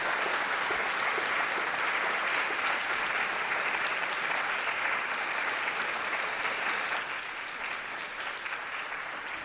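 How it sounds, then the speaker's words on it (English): Sustained applause from a large audience at a Jessup international law moot court event, steady and full throughout with no break, easing only slightly toward the end. "please join me in giving them a huge round of applause."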